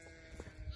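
A sheep on a small farm at lambing time gives a short, faint bleat, quiet and somewhat distant, over a low background.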